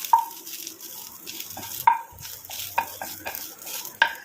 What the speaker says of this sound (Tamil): ஆட் பண்ணிட்டு அதையும் சேர்த்து நல்லா நான் வதக்கி எடுத்துக்கிறேன்